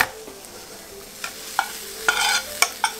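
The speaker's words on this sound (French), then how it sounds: "Maïs cuit, là, revenu dans une poêle" Cooked corn being stir-fried in a pan with salt and pepper, a quiet background sizzle broken by several short scraping stirs, one of them longer, with no voices.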